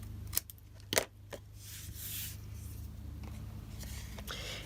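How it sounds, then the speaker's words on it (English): Scissors snip through cardstock a few times early on, with crisp sharp cuts near the start and a trailing rustle of paper handling, close and fairly quiet. "And then trim the back of my card."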